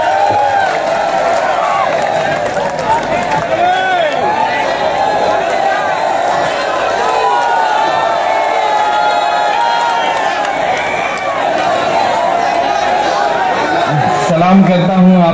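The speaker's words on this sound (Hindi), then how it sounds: "आपका शोर, आपकी तालियों की गूंज वहां से शामिल हो" A large crowd cheers and claps to welcome poet Imran Pratapgarhi on stage, a steady dense roar of applause and shouting that holds for the whole stretch, with scattered voices in the mix.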